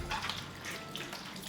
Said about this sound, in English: I always clean them, like try to spread them out a little, the different layers, so that I can get in there and wash it properly